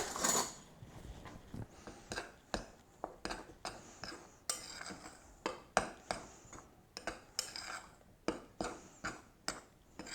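Flour, baking powder and salt for pumpkin cookies are whisked in a bowl, giving a run of soft rhythmic scrapes and light clinks against the bowl, close and quiet.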